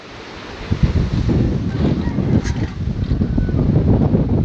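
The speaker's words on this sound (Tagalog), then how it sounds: "So nakakatakot tingnan mga idol ang mga alon. Sobrang laki na." Strong wind and huge ocean waves surge around a boat at sea, a loud, close, continuous roar with gusting wind buffeting the microphone and heavy water churning, no voices.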